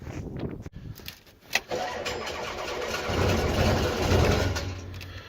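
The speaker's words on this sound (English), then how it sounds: "you can hear Alice, she doesn't want to fucking start" Engine of an opal mining machine at Andamooka struggling to start: the starter cranks and coughs with uneven bursts, then the engine catches into a rough, labouring idle that swells and dips, close and fairly loud.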